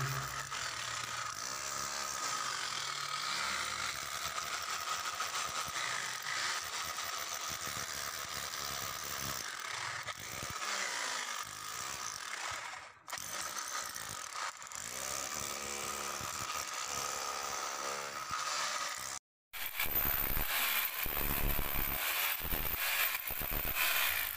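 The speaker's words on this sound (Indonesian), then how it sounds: "memakai mesin drill" A drill machine used for husking runs with a loud, continuous mechanical grinding whine that stops briefly twice before starting up again, heard close and without talk.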